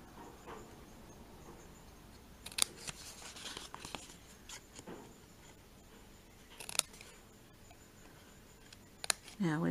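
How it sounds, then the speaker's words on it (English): Scissors snipping around the edge of a paper scallop-punched box for an Easter egg holder, heard as a few sharp, brief cuts spaced apart amid quiet room tone, close and fairly soft. "we need our snips, and we're just going to snip up the edge here"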